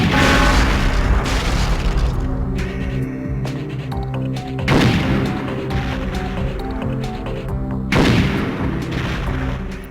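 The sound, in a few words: Devastator grenade launcher firing and exploding in Perfect Dark video game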